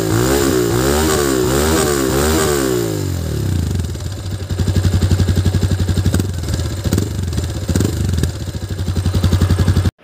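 A Bajaj Pulsar 220F BS6 motorcycle engine revs up and down in repeated throttle blips, then settles into a steady, close, loud exhaust beat at idle with rapid even pulses.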